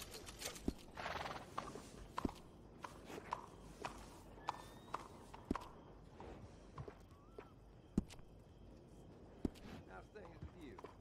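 Hooves clop and scuff at irregular intervals as a horse in Red Dead Redemption 2 moves about near the listener, with an occasional whinny, footsteps and faint voices mixed into the game ambience.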